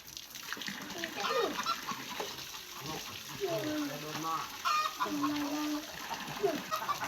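Chickens and roosters cluck and squawk repeatedly at a rural village ceremony of the Katu people, with a watery splashing sound and people talking throughout.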